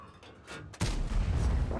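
A single heavy tank cannon shot in World of Tanks, fired from a Centurion Action X: a quiet lead-in, then a sudden loud, booming blast that rolls on with a broad rumble.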